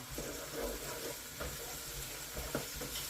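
Pumpkin chutney cooking in a pan gives a soft, steady sizzle and bubbling, quiet and close, with a few faint clicks and no talking.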